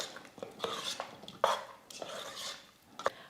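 A spoon scrapes and clinks against a pot while roasted cashews and ghee are stirred into sweet sakkarai pongal, giving a series of close, irregular metallic knocks and scrapes with no talking.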